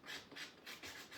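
Wooden barn quilt stars are sanded by hand, producing close, quiet rhythmic rubbing and rasping strokes, about five back-and-forth passes in quick succession with no talking.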